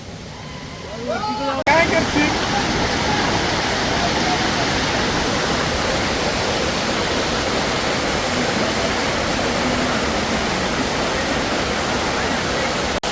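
The Tandulwadi waterfall roars loudly and steadily, the sound of falling water filling the whole stretch without pause, following a brief quieter moment at the start.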